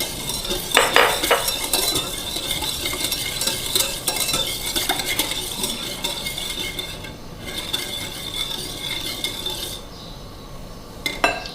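Yogurt is stirred into a fruit salad in a bowl, a steady wet churning with light spoon clinks against the dish, close and continuous, no speech.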